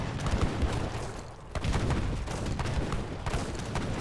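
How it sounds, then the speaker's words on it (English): Repeated cannon fire booms out in a dense, continuous battle din in Age of Empires 3, with heavy shots landing at irregular intervals over a constant rumble. "Good number of cannons firing away."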